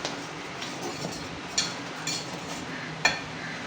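Porridge being stirred in a pot on the stove, a steady scraping swish with a few sharper clinks of the spoon against the metal at intervals, close and moderately quiet, no talking.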